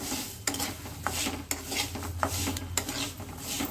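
Salted peanuts roasting in a pan over a low flame are stirred steadily, giving repeated scraping and rattling strokes of nuts against metal with sharp clinks at irregular intervals, close up and with no talk.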